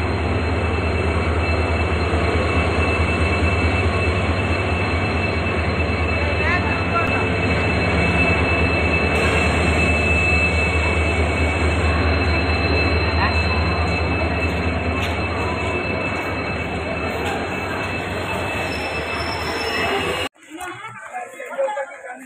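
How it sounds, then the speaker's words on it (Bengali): Inside a train in Assam as it pulls away, a loud, steady low rumble of wheels and carriage noise runs throughout with faint squeals and background chatter from passengers, dropping suddenly near the end. "তো এখানে আমরা ট্রেনে উঠে গেছি, আর বর্তমানে ট্রেনটাও ছাড়ি দিছে।"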